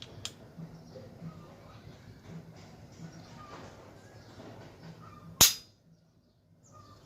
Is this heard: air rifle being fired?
yes